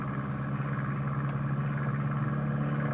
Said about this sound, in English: allows you to hear the drone of your engine and the creak of canvas